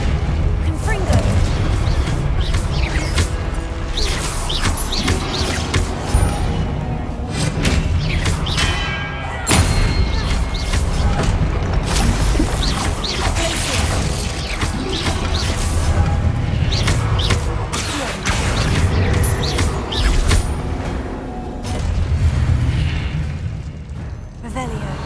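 Confringo explosion spells going off in Hogwarts Legacy, a dense run of booming blasts and crashes layered with game effects and a voice talking throughout.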